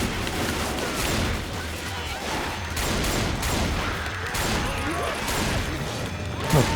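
Rapid, dense gunfire from shooting zombies in a video game, a continuous clatter of overlapping shots and impacts sustained at a loud level for several seconds without pause.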